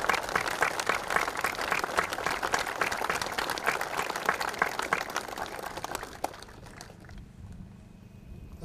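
A crowd gives sustained, dense applause at an Air Force ceremony, loud and steady for about six seconds before it quickly fades to scattered claps and room quiet.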